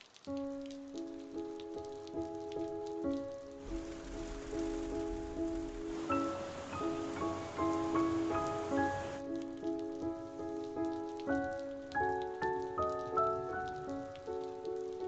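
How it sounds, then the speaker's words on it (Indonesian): Rain falls as a steady hiss for several seconds, mixed in beneath soft, gentle melodic music that carries on before and after the downpour. "Aku benci hujan."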